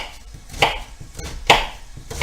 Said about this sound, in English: I definitely need this onion in this pan right now, so I'm going to go ahead and cut it